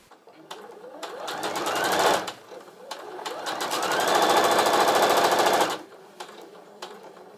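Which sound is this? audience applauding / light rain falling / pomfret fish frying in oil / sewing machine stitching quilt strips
sewing machine stitching quilt strips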